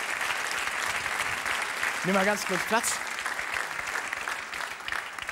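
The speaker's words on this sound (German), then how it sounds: "Großer Applaus verfolgt uns." Dense studio audience applause fills a German TV comedy show taping, steady and loud throughout, while someone speaks over it briefly.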